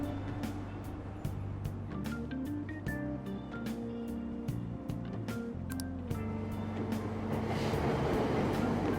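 Subway train running in the video game Persona 5 Royal, a continuous low rumbling hum with shifting engine tones and rattling clicks, building slightly louder toward the end as the car moves.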